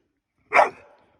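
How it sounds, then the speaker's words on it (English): A dog lets out a single loud, sharp bark close by in an otherwise quiet moment. It ends in a brief trailing tail, and no one speaks. "she's got a loud bark"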